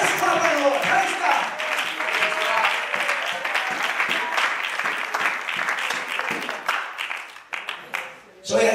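A church congregation claps along in steady, dense rhythm through most of the stretch, loud and close, with voices mixed in and a brief dip near the end.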